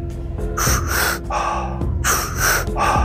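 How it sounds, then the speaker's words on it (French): A deep breathing exercise: powerful two-stage inhales through the mouth filling belly then chest, each followed by a full open-mouth exhale, close and loud, repeated in a steady rhythm with a low musical drone underneath. "De puissantes inspirations par la bouche, ventre, torse, et une expiration complète par la bouche également."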